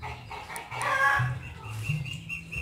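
One-month-old Muscovy ducklings peep and chirp close by, several short calls overlapping with rustling and soft movement, fairly loud with no speech.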